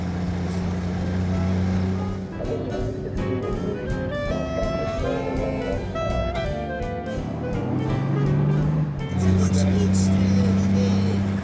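A car engine roars steadily and loudly while pulling away on a drive at Powderham Castle, with people talking over the continuous throaty hum.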